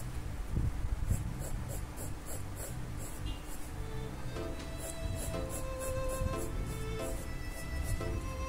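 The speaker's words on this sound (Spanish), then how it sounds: "Y mira que estoy usando el mismo lápiz." A pencil draws on paper up close, a continuous soft scratching of strokes with rhythmic back-and-forth shading.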